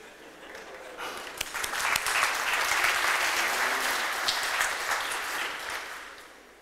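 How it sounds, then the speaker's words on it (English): A conference audience breaks into applause that swells quickly, holds as a dense, loud wash of clapping for several seconds, then gradually fades. "So I think let's give a big cheer for humanity."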